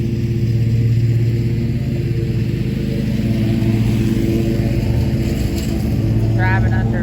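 A riding lawn mower rolls along a home driveway, its engine giving a steady, loud, close rumble that holds constant with little change in pitch throughout.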